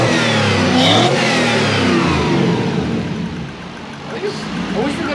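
Ford Zephyr car fitted with a Toyota 1UZ V8 engine run on a Haltech Elite 2500 ECU, revving loud and close with a rising roar that settles back toward a rumbling idle, voices faint underneath.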